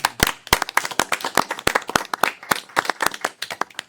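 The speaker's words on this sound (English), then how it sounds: "Can we give all of our staff a big round of applause?" A small group claps steadily for staff at a city council meeting, the sharp hand claps close and distinct, with no voices.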